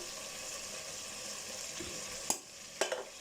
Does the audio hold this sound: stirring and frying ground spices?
yes